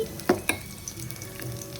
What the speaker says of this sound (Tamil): தாளிச்சிட்டு இதில் கொட்டணும்